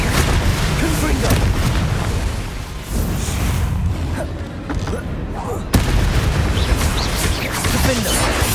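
Fiery Confringo spell blasts in the wizarding game Hogwarts Legacy, repeated loud booms and crackling impacts amid a busy combat din, with a voice calling out over the fight.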